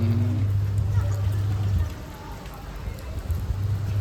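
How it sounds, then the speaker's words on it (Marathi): Light rain patters softly and steadily. A low droning hum sits underneath for the first half, then fades. "थोडा थोडा पाऊस पडतोय जास्त नाही पण थोडा थोडा पडतो"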